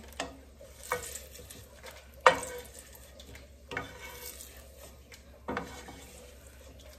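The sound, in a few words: dried red chillies being roasted and stirred in a pan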